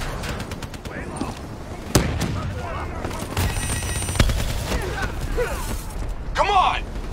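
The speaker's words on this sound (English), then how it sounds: "Hit them with the swarm launcher!" In a Call of Duty Black Ops 3 campaign battle, bursts of machine-gun fire and a heavy launcher blast ring out amid mechanical clatter, with soldiers shouting over the loud, dense combat.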